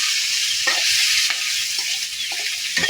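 Adobo being stirred in a frying pan, a steady sizzle running throughout with several distinct scraping stir strokes spaced irregularly, close and fairly loud.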